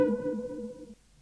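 An unprocessed synth chop texture sample from a kit plays as a short, tonal, resonant note with a hollow, sonar-like tone that rings briefly and then cuts off, alone with no talk.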